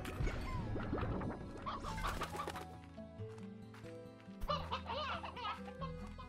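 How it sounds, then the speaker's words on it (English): Chickens cluck in the video game Slime Rancher, with scattered short clucks and chirps over steady tonal game sounds. "So many chickens around."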